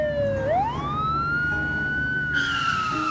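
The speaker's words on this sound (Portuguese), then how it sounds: "Ela ligou a sirene para que os outros carros lhe deem passagem." An ambulance siren from a children's animated cartoon about cars wails loudly and alone, dipping briefly and then sweeping up into a long, steady high tone.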